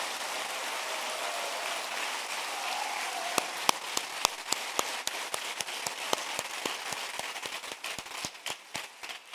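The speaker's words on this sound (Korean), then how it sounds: "뜨거운 격려의 박수 사랑의 박수 한번 해주시면 좋을 것 같아요." An audience at a church lay retreat's closing service claps, starting as a soft wash and building into sharp, scattered loud claps that continue to the end.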